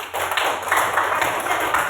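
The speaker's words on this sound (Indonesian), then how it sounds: "sekali lagi tepuk tangan untuk semua" A class of students clapping together at the end of a school lesson, a dense, steady patter of many hands with a few voices mixed in.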